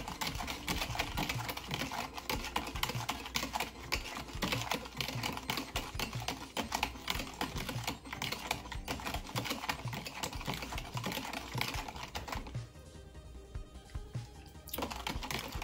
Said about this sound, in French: Et on va le brasser pour le sucre à délier là-dedans.